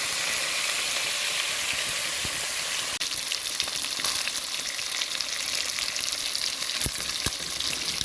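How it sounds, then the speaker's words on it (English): Beef sears in a pot for stew, a steady, dense sizzle and crackle throughout, with a sharp knock near the start and a few light utensil taps later. "Cook up my beef, let it have that nice flavor and everything"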